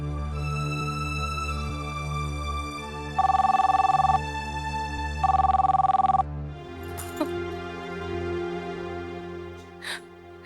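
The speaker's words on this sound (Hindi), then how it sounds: "नीलू, सुचित्रा, तूने फोन किया था?" A telephone rings in two loud electronic bursts over a steady musical background, then falls silent as the music shifts.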